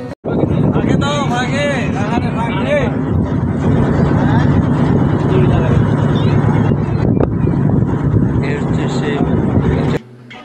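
Steady droning engine of a boat on Nikli haor in Kishoreganj during the rainy season, moving in toward a landing ghat, loud and continuous with wind buffeting and someone talking over it, cutting off near the end.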